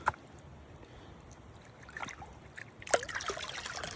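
Scooping and rinsing material in water at a beaver-related dig, heard as low trickling and dribbling with faint splashes, a brief slosh near the start and a stronger swirl of water near the end.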